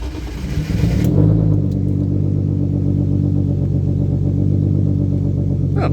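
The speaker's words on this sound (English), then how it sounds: "Let's fire it up, see if it'll start cold." A BMW E36 drift car with a turbocharged M50 engine cranks briefly, fires up from cold and settles into a loud, rough, rumbling idle close by, with no talking.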